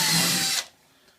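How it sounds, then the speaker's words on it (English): A power drill whines loudly while boring a hole in a wall to hang a picture, a steady high-pitched burst that stops abruptly after about half a second, leaving near silence. "I drilled a hole, just a simple hole, like this."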